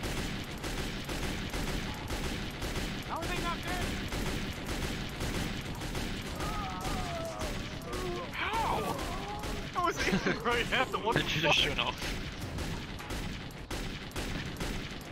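Rapid gunfire from a gun in the VRChat video game, a dense run of sharp shots rattling continuously through the whole stretch, with voices talking and calling over it.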